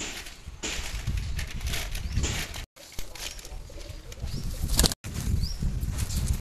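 Pigeons, including a female bird, flap their wings in a steady close rustle broken by two brief silent gaps, with faint cooing mixed in.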